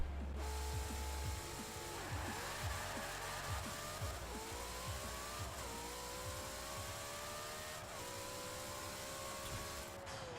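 A 1900 HP drag Mustang launches and accelerates hard in the Forza Horizon 4 video game, its engine screaming upward through several gear shifts with rising pitch that drops and climbs again, loud and continuous.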